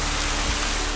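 Rain falls steadily in a dense, even hiss of drops, close and continuous with no other sounds.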